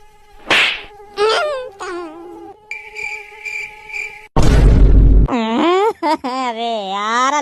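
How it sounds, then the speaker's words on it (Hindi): Mosquitoes whine in a thin, steady buzz close by, heard between and under people talking in a room. "इतने ज्यादा है रहे हैं मच्छर"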